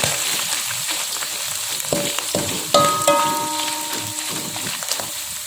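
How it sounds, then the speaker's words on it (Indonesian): Shredded tuna frying in hot vegetable oil, a loud, steady sizzle with bursts of crackling and a few clinks of a utensil stirring the pan. "Kita goreng seperti biasa."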